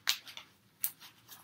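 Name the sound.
tarot cards being shuffled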